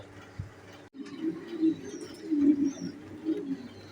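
Soft, low pigeon coos repeat steadily, close by, with faint chirps and rustling in the background.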